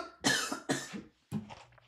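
Someone coughs several times in quick succession: two hard, close bursts, a short pause, then a softer cough that trails off into a throat-clearing rasp. The coughs are near and alone, with no talking.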